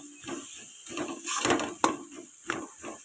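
Boiled potatoes mashed in a kadai on a low flame, with close, uneven scraping and knocking strokes of a utensil against the pan, several bursts spaced across a few seconds.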